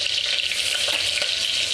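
Biryani masala and mint masala fry in a hot pan, a steady close hiss with a few faint stirring taps and no voices.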